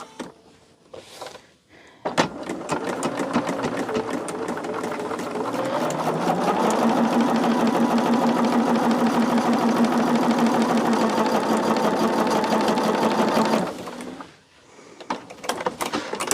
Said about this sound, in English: Let me get this going and I can show it to you once I